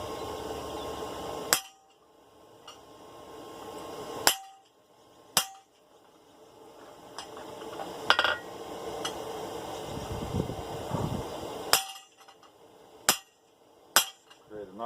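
Hammer blows strike heated steel on an anvil while a dinner bell's shoulder is forged: sharp, ringing metallic impacts land irregularly, a few seconds apart, loud and close over a steady background hum of a fan or forge blower.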